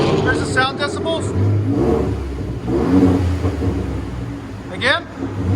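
A Ford F-150 3.5L EcoBoost twin-turbo V6 with a Borla Pro XS exhaust revs up, a steady low rumble swelling and easing under people talking close by.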